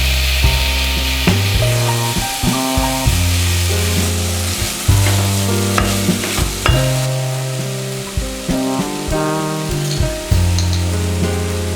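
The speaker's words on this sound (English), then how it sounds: "Add the tomatoes along with a pinch of turmeric and a little Kashmiri chili powder." Tomatoes with turmeric and Kashmiri chili powder cooking in a pot, a loud, close sizzle with repeated scraping and stirring knocks throughout.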